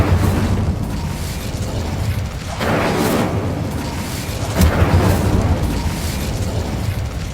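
In the Hogwarts Legacy video game, the Incendio fire spell erupts in two loud, rushing bursts of flame a couple of seconds apart, set against a steady roar, with no talking.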